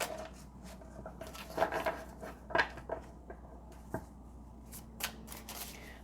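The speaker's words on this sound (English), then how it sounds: "I am going to pull some more oracle cards here," Oracle and tarot cards shuffled by hand during a pick-a-card love reading, a close, continuous series of soft riffles, slaps and flicks with a few sharper taps and no talking.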